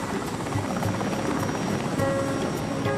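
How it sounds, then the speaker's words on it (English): A helicopter lifting off from Santa Ana airport, a steady close rotor and engine roar with a dense broadband wash and a faint turbine whine holding constant throughout, no voices. "the helicopter lifts off from Santa Ana"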